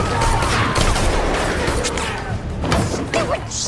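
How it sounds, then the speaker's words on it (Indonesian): Gunfire during a shootout in a sniper action film, rapid bursts of sharp shots and impacts over a dense mix of noise, with faint voices underneath. "Aksi baku tembak pun terjadi di antara mereka."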